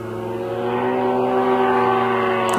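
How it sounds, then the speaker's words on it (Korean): An attack drone powered by a grass-trimmer engine buzzes steadily like a motorcycle, a droning tone that holds throughout and grows slightly louder. "아마 예초기 또는 오토바이 같은 소리가 좀 들리는데요."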